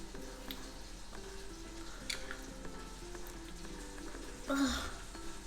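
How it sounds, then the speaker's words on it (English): Quiet, steady sizzling of food frying in a pan, a continuous crackling hiss with a brief louder stir near the end. "I love the sound of sizzle."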